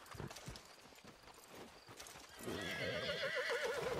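A horse in Red Dead Redemption Online, with sparse hoof clops at first, then a loud, wavering whinny rising over steady hoofbeats in the second half, with no speech.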